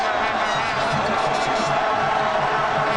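A dense, steady roar from a large crowd at a 1995 United States versus Colombia football match fills the stadium, loud and continuous throughout.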